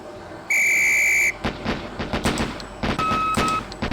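In the police game Police Quest SWAT, a loud sustained whistle blast sounds, then after a short pause comes a string of sharp gunshots in quick pairs on the firing range, with a fainter tone ringing near the end.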